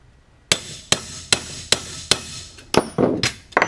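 Hammer blows on a punch set against a seat track rivet, eight sharp metallic strikes at a roughly even pace of about two a second, close and loud with no talking.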